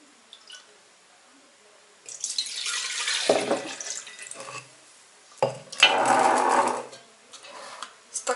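Vodka pours in two bursts into a measuring cup, a gurgling splash that stops and starts again, with quiet pauses in between.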